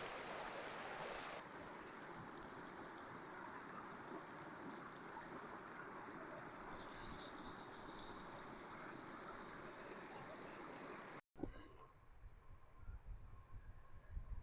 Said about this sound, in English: Down this mountain stream, Zen's down drinking his water.